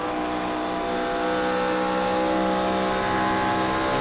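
A race car in a No Bull Racing Series event at Auto Club lifts off the throttle and coasts on track to save fuel, a steady, fairly loud onboard engine drone with harmonic whine and no talk.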